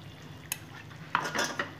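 A spoon stirs a ground paste of radhuni, poppy seed and ginger into cucumber curry in a pan, giving a few quiet scrapes and clinks over a faint low hiss.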